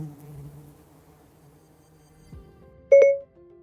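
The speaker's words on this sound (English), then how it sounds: "Here's a honeybee." A honeybee drones in a steady, low, faint hum for about two seconds, followed by a brief electronic chime.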